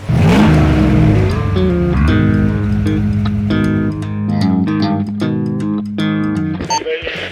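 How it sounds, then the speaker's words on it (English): Ford Bronco engine crawling slowly up a rocky Colorado mountain trail near Hancock Pass, a loud, steady, close drone with shifting tones, occasional sharp knocks, and a throttle change around the middle. "We're hitting the rockier parts of the trail now and starting to crawl a little slower"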